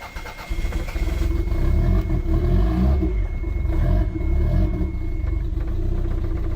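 A Toyota MR2 engine fires up after a brief pause and settles into a rough, uneven idle, loud and close, its throbbing low rumble wavering throughout.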